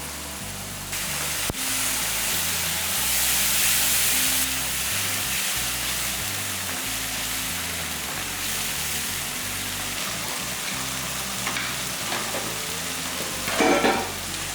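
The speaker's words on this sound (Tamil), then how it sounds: "இதுலேயே போட்டு நல்லா வதக்கிடலாம்" A ground paste of ginger, garlic, tomato and shallots sizzles while being sautéed, a continuous close frying hiss with occasional stirring clatter and a sharp knock near the start, heard alone.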